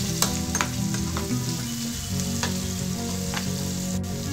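Onion pieces frying in a pan with curry leaves, turmeric and ginger garlic paste, a loud, steady sizzle with clicks of a stirring utensil scattered through it, no talking.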